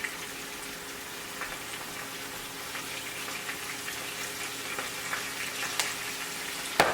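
Food sizzles steadily in a pan, with faint scrapes and clicks from stirring and a sharper knock near the end. No one speaks.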